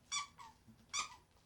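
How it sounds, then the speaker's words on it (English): A dog chews a squeaky chew toy, producing two sharp, close squeaks about a second apart, each followed by a softer trailing squeak. "The dog's down here biting on a Chewy toy."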